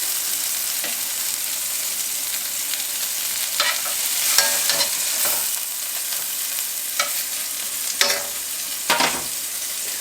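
Tex-Mex meatballs sear in a hot pan with a steady, close sizzle throughout, broken by a few sharper crackles and the scrape of stirring or turning.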